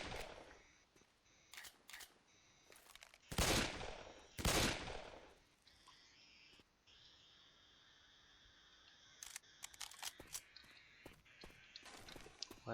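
Pistol fire in the video game Left 4 Dead 2, with dual pistols, comes as scattered sharp shots, a few loud close bursts early on, then quieter separated pops later, with no talking.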